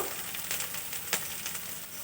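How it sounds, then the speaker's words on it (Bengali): Ginger paste, chilli powder and cumin powder fry in a pan with a steady soft sizzle, broken by a few brief stirring scrapes, quiet and close with no voices. "জিরে গুঁড়ো মশলাটা ভালো করে কষিয়ে নেব"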